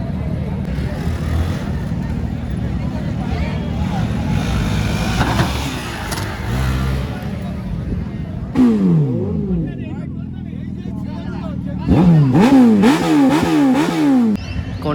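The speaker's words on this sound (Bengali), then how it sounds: "আর এখানে হচ্ছে এখন র্যালি রেস" Motorcycles and cars rev and accelerate at a rally race during a Kolkata biking festival on Republic Day, engine roars rising and falling close by amid crowd noise and a talking voice.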